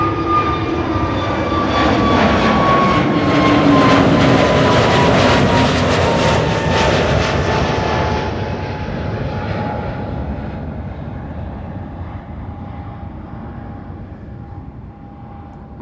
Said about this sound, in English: KLM Flight 1503 to Madrid